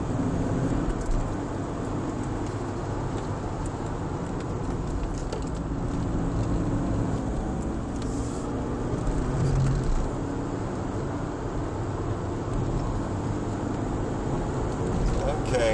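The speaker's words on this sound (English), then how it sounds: "now he's picking up some speed through the S's" A BMW 318ti race car drives at Virginia International Raceway, its engine a steady close drone heard from inside the car, with someone talking over it in places.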